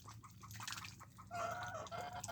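Chickens clucking softly in a poultry yard, a few hens cackling close by, with a brief crowing-like call toward the end.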